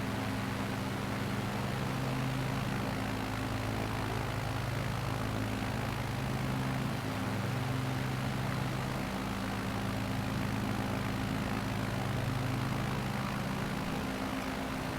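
A small propeller plane's engine hums in a steady, unbroken drone inside a flight simulator game, loud and continuous with a low throbbing tone throughout and no speech.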